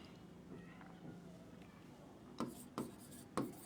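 A sentence handwritten during a Bengali grammar lesson: soft, faint scratching under a low room hum, then three sharper strokes near the end. No one speaks.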